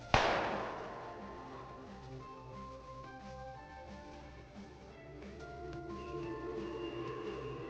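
A single sharp pistol shot cracks loudly at the start, then rings away into a tail of film score with sustained tones and no voices.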